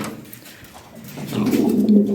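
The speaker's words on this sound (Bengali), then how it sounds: "অনেক সুন্দর সুন্দর কবুতর আছে" Pigeons, including Lahori and Sirazi breeds, coo softly at a pigeon sale, the low murmuring growing slightly louder toward the end over a faint background hum.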